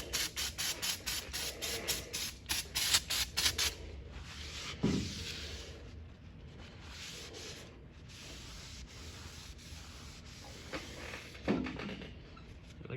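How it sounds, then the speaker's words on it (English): Brake cleaner hissing from an aerosol can in a steady spray across metal lathe ways, preceded by brisk rubbing and scrubbing strokes; close and fairly loud, with no talking. "This time I'll spray it with a brake cleaner."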